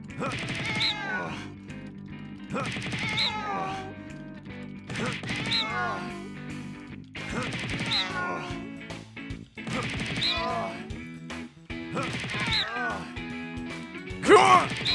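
Cartoonish cat meows from the kitty-lift minigame in the video game No More Heroes 2 repeat in bursts about every two seconds, mixed with thumps and a crash near the end.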